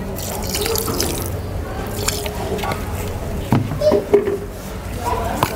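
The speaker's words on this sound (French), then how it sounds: "On va ajouter un peu d'eau." Water poured from a tap or jug into a pot of partly cooked fonio being prepared for djouka with fish, a steady trickling pour with some dripping and splashing, close by, with no talk over it.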